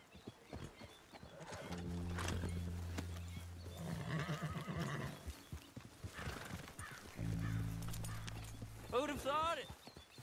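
Horse hooves clip-clop steadily while horses neigh and whinny in the video game Red Dead Redemption, with people talking over the riding sounds.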